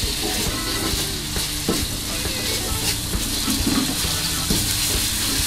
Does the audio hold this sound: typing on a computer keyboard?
no